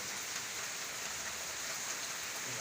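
Heavy rain falls on a house in a steady, dense hiss, constant and even throughout with no voices or other distinct sounds.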